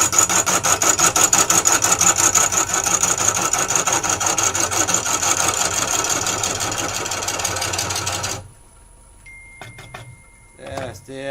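A woodturning tool cuts a Mallee burr spinning on a lathe, a loud continuous rough scraping and rumbling that runs for about eight seconds, then stops abruptly, leaving quieter handling sounds.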